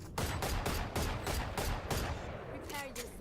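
Rapid video game gunfire rings out in loud repeated bursts, about six heavy volleys in quick succession. A quieter scattered patch follows near the end.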